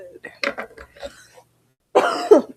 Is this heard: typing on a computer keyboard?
no